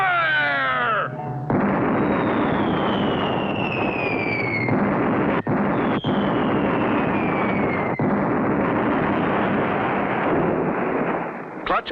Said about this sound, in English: Clutch and Company hit with cannon fire.